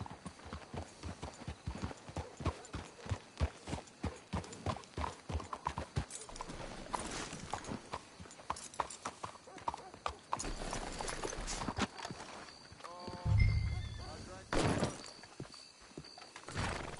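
Steady clip-clop of horse hooves walking in Red Dead Redemption 2, close and rhythmic, followed by a horse's whinny and snorting near the end, with voices talking over the sounds.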